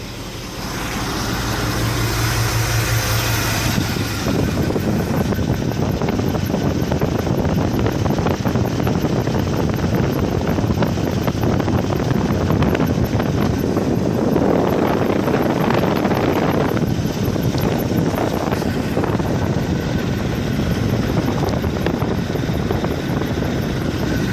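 A Chevy engine with a fuel pressure problem, air forming at the fuel pump, idles steadily as a loud, continuous broadband rumble with a windy, hissing edge that runs the whole time without talk.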